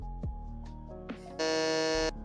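A quiz-show buzzer in a pop culture trivia game sounds as one loud, steady electronic tone lasting under a second, after brief tonal game-show music and chimes.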